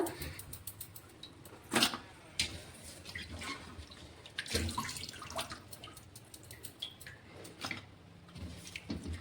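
Tap water runs and splashes as fish is rinsed in a kitchen, faint and uneven with scattered splashes and drips, and no clear talk.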